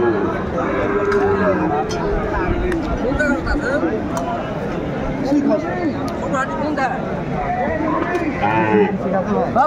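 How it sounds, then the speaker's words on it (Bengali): Sahiwal bull mooing amid a crowded cattle market, drawn-out lowing calls from several animals mixed with constant chatter and babble of buyers and sellers, loud and close. "শাহিওয়ালার ষাঁড়।"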